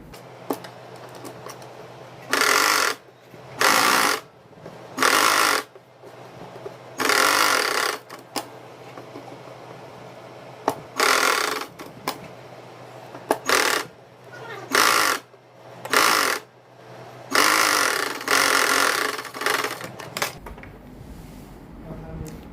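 A sewing machine stitches a loose basting seam along a V-neckline in a dozen short, loud, whirring bursts of varying length, with quiet pauses and a voice talking between runs.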